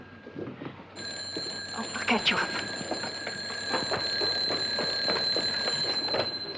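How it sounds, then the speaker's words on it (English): A telephone rings in a 1950s home, a bright repeated bell tone sounding over people talking nearby. "don't bother about the phone now."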